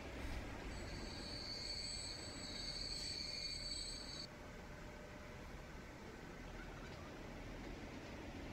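A train runs along the tracks in the video game Transport Fever, with a steady low rolling rumble and a high metallic wheel squeal that rings out for the first few seconds and then stops, leaving only the quieter rumble.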